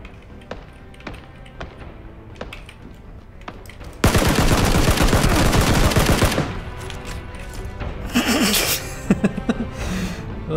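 Gunfire in the battle royale game PUBG, a dense loud burst of rapid automatic shots lasting about two seconds, followed by scattered sharper single reports and softer game ambience.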